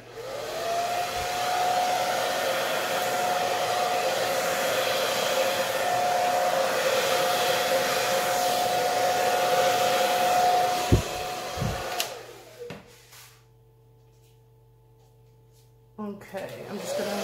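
A torch roars steadily over a poured acrylic paint surface for about eleven seconds, a continuous loud hiss with a faint tone, then cuts off into a quiet room hum.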